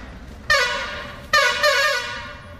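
Vehicle horn honking near a forest road in tiger territory at Jim Corbett, two long loud blasts in quick succession, close and prominent with little else around.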